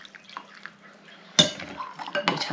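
Boiling water poured over jelly in a bowl for a Christmas trifle: a few faint clinks, then a sudden splashing pour that carries on, close by.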